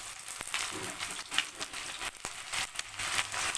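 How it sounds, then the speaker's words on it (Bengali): Chopped onions fry in mustard oil in a wok with melted, browned sugar: a steady, close hiss and crackle with occasional louder pops and stirring scrapes. "এবার আমি এর মধ্যে দিয়ে দিচ্ছি পেঁয়াজ কুচি"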